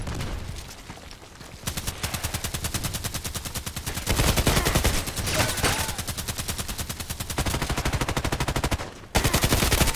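Rapid automatic gunfire from the online shooter Contract Wars, loud sustained bursts of machine-gun fire with brief pauses, ending in a short break before firing resumes, with little talk.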